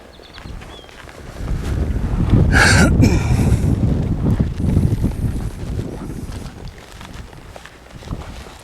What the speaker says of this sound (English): It's a little bit cool and kind of breezy.